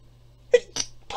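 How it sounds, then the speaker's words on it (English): A single sneeze with a short gasping build-up in two catches before the final burst, close and moderately loud against a quiet room, with no talk. "I'm gonna sneeze."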